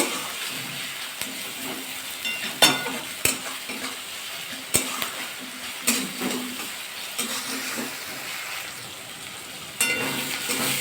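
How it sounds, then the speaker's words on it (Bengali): Onions salted and frying in a pan hiss constantly up close, broken by irregular clinks and scrapes of a utensil stirring them. "হালকা পেঁয়াজগুলো ভাজা হবে পেঁয়াজের মধ্যে একটু লবণ দিয়ে দেবো"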